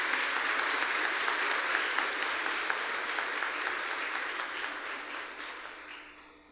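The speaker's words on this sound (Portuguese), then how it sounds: "Vamos acolher essas duas crianças na nossa comunidade com a salva de palmas." A church congregation at a Pentecost Mass claps in welcome of two children, a dense, lively round of applause that holds steady and then gradually tapers off.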